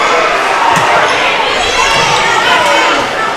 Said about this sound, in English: Home crowd doesn't agree with that one